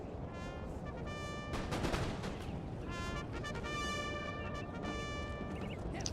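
Musket volleys crackle in a Napoleon Total War battle, ragged bursts of many shots popping at a distance, repeating in clusters over a continuous battlefield din.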